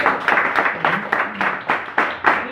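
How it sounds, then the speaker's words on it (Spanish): A church congregation claps together in a strong rhythmic beat, about two claps per second, loud and close with no speech on top. "Denle un fuerte aplauso a Cristo Jesús."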